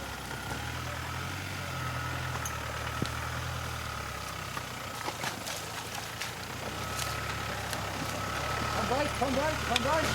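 A rebuilt Land Rover pickup with a TDI diesel engine idles and rumbles low and steady at a 4x4 club challenge water crossing, its note swelling toward the end with sloshing water.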